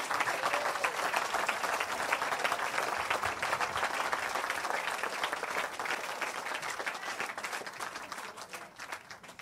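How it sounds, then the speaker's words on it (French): A church congregation in Évry bursts into sustained, dense applause, many hands clapping together at a steady level for the whole stretch before it gradually tapers off at the end. "On acclame le Seigneur"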